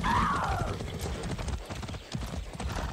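A horse gallops in the video game Far Cry 6, its rapid rhythmic clip-clop of hooves close and continuous, opening with a brief whinny over game ambience.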